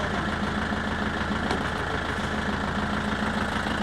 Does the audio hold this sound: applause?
no